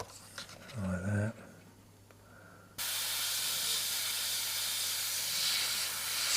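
A brief voice and faint sounds, then a loud continuous hiss of spray paint over a mask starting abruptly and holding steady to the end.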